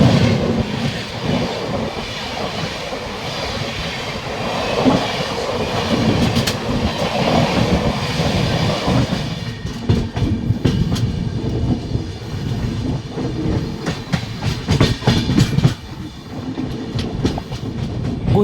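The Vasco Jasidih Express rolls along just after departure, heard from on board with a loud steady rumble, then rhythmic clickety-clack of wheels over rail joints and occasional squeals.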